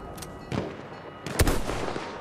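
A single sharp sniper rifle crack in Battlefield 1, loud and close, preceded by a softer distant shot amid battlefield ambience.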